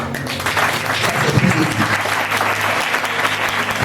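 A church congregation applauds Jesus with hands raised overhead, producing loud, dense clapping that holds steady throughout, with a few crowd voices mixed in.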